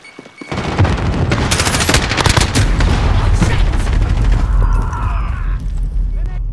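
Call of Duty: Modern Warfare multiplayer combat, with heavy continuous gunfire and rumbling explosion booms filling the scene loudly while voices call out over the battle.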